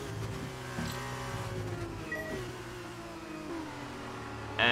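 Race car in the F1 22 video game spinning off the track during practice at Yas Marina, with a buzzing engine note that shifts and wavers in pitch under layered game audio, then a sudden burst at the end.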